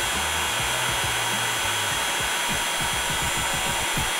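A heat gun on setting 2 blows hot air about two inches above the chips of a Mid 2007/Early 2008 MacBook Pro logic board, a loud steady whooshing drone close to the mic with a low motor hum underneath.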